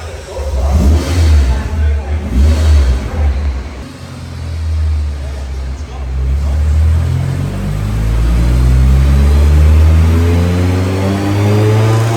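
A car on a dyno revs hard, its loud engine note climbing and holding high for several seconds, with voices faintly mixed in over the roar.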